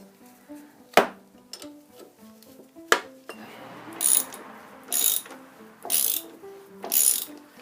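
A ratchet loosens a fork bolt on a Honda Deauville motorcycle, giving a close run of quick metallic clicks broken by a few sharp knocks and several louder ratcheting strokes toward the end.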